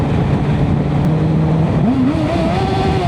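Motorcycle engine droning steadily on an offroad ride, a low hum that rises in pitch as it accelerates toward the end, with constant wind and road rumble and no voices.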